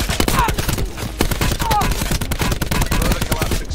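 Rapid automatic gunfire in Call of Duty: Blackout on Nuketown Island, a loud, close burst of sharp repeated shots in quick rhythm, sustained for several seconds.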